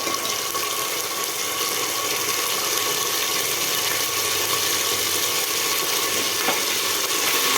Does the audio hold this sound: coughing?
no